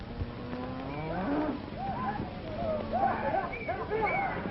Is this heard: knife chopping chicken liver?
no